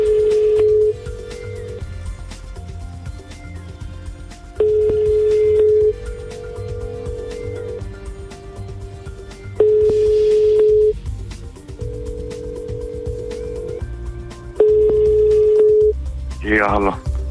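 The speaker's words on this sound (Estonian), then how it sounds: "valin meie stuudiotelefoni peal siin täiesti suvalise telefoninumbri" A studio telephone on air rings a dialed number: repeated long ringback tones come in regular bursts with gaps, over steady background noise, ending in a short rising sound.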